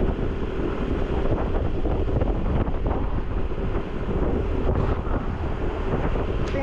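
Steady wind gusts buffet the microphone outdoors during a storm with the power out, a constant loud rushing roar with no pauses.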